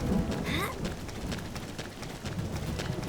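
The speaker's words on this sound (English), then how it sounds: "it's raining again. And there's thunder" Rain patters steadily in the video game Xenoblade Chronicles X, with low rumbling thunder and game sounds such as footfalls beneath it, all at a moderate, continuous level.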